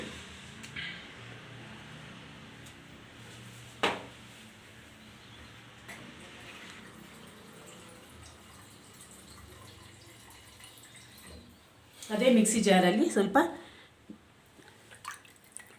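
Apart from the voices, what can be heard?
water poured into mixer jar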